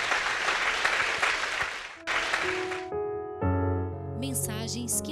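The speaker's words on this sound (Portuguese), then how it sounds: "Dê um aplauso para Jesus" Church congregation claps for about three seconds, dense and close, then it cuts off abruptly and sustained music with a sung tone takes over.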